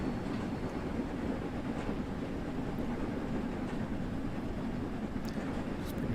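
Train running in the video game Train Sim World 3, a steady low rumble of wheels and rolling stock with faint rhythmic clicks, fairly quiet and continuous.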